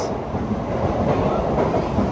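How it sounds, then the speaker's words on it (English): Steady rumble and clatter of a Japanese bullet train in motion, heard from inside a carriage on a trip to Hiroshima, with continuous loud rolling noise and no talking. "we are on our bullet train."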